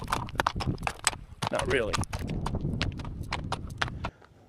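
A mule's hooves clip-clop in a quick, steady rhythm on a desert ride, close and clear, with someone talking over the steps before they stop near the end.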